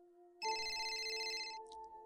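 A phone ringtone in a horror story, a bright electronic ringing tone that starts abruptly over a faint hum and holds steady for about a second before cutting off, loud and close with no talking.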